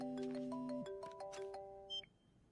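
An electronic phone ringtone plays a short melodic run of tones, clear and close, then cuts off with a brief beep.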